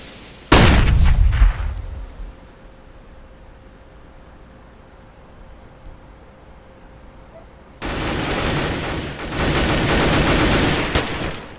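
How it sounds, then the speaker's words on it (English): A flashbang goes off in a video game shooter: one sharp, loud burst that fades quickly into a long, quiet stretch, then a harsh, steady hiss of noise near the end. "Throwing a flashbang."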